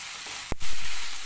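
Onions, ginger and garlic sauté in a pan, a brief burst of sizzle rising sharply midway, then steady frying close by with no talking.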